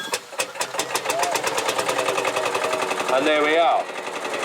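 A vintage engine at a steam and vintage show, set in the start position with its decompressor engaged, chugs into a rapid steady rhythmic beat, running loud and close while someone talks over it.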